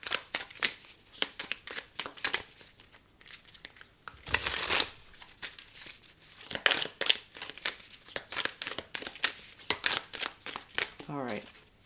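Tarot cards are shuffled and laid out in quick, crisp riffles and snaps, with a louder burst of rustling partway through and soft talk in between.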